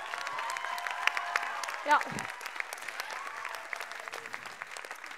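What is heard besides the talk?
audience applause at live revue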